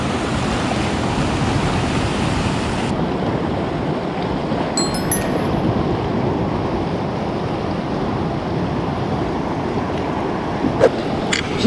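Sea waves crash against coastal rocks on a fishing outcrop in rough surf, a loud, constant roar of breaking water with a few brief clicks near the end.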